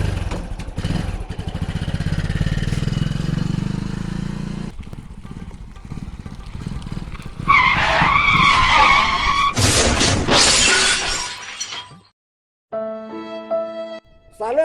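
A car in a comedy sketch revs and skids as it drives off, with a loud, close engine roar and tire scrubbing that cuts off abruptly, followed by a brief musical sting.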